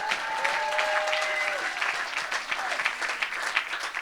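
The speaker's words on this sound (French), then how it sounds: "Est-ce qu'on peut acclamer pour les femmes ici?" Applause breaks out from the congregation at a Sunday church service celebrating women, a steady wash of clapping that fades slightly toward the end, with a voice faintly audible beneath it.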